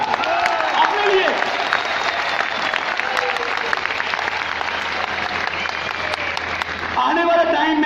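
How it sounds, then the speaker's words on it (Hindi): Loud, sustained applause from an audience at a direct-selling business speech, dense clapping filling the whole stretch with sharp individual claps, with a voice faintly over it near the end. "यस यस, एक बार जोरदार तालियां"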